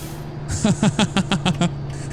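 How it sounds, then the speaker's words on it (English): A rapid series of about seven short, sharp air pulses from truck trailer brakes in American Truck Simulator, chuffing over a steady low engine hum. "I'll let you hear the trailer brakes."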